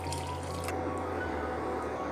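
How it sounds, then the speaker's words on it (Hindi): About 900 ml of water pours steadily into a pot of sautéed mixed vegetables for vegetable pulao, a continuous close splashing gush with a brief sharper splatter at the start. "अब हम इसमें पानी डाल देंगे तकरीबन 900 ml, यानी कि 1 लीटर से थोड़ा सा कम"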